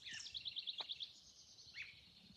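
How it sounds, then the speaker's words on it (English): Birdsong faint in the distance behind a quiet room, with one bird giving a quick run of bright repeated chirps followed by a couple of short single calls, otherwise near silence. "Listen to the birds."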